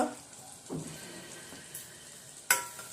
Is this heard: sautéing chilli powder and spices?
yes